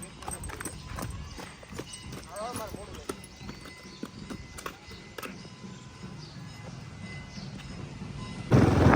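A voices a horse imitation, with clip-clop and whinny-like sounds coming through amid chatter among friends gathered around horses; the sounds are irregular and mixed with other voices and handling noise.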